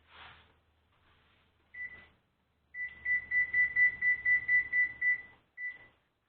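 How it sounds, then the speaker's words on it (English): A kitchen oven's control panel beeping as it is set to preheat to 400 degrees: a few single chirps, then a rapid run of about ten even beeps and one last beep, clear and close in a quiet room. "I'm going to preheat the oven to 400 degrees."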